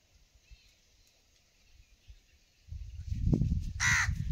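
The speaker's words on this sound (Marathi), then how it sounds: "कावळा ओरडतोय." A single loud crow caw near the end, harsh and close, after a stretch of low rumbling background.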